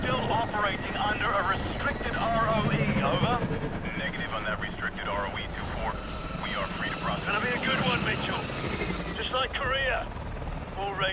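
Helicopter rotor drone in the game Call of Duty: Advanced Warfare, a steady loud hum running through the whole stretch beneath continuous talking.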